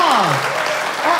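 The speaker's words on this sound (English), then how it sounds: "let's give him a round of applause" Audience applause at a live hypnosis talk show, a brief burst of clapping with a voice speaking over it.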